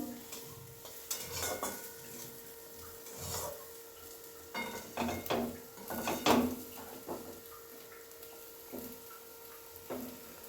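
Masala paste being stir-fried in oil in a pan for a chicken stomach curry: a steady low sizzle with repeated scraping strokes of a spatula against the pan, some louder clanks, and no voices.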